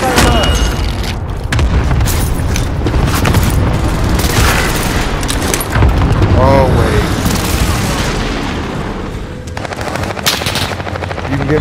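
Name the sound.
airstrike explosions in video game Call of Duty: Modern Warfare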